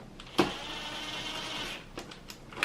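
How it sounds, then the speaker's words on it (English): A cordless power tool drives screws back into a Samsung TV, a single steady electric whir lasting over a second, opened by a sharp click and followed by a few faint clicks, close and without speech. "You can hear my cordless tool."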